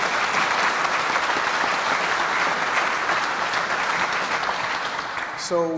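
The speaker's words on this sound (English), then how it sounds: "if anyone could give him a round of applause for his military service, that'd be great as well" Sustained audience applause for a military veteran at a foot bridge dedication ceremony, a steady dense wash of many hands clapping that holds throughout, fairly loud and near, tapering slightly at the very end.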